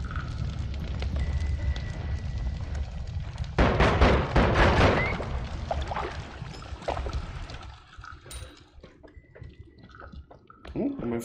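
In the video game Noita, a flammable substance catches fire, and a crackling, roaring blast swells loudly for a couple of seconds before settling into dripping, hissing fire noises, with no talk.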